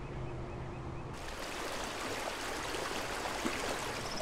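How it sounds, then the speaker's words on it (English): The Snake River in Wyoming flows with a continuous rushing wash, fairly close and even, with a faint low rumble underneath and no voices. "We're here on the Snake River in Wyoming"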